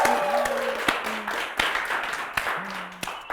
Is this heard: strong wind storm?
no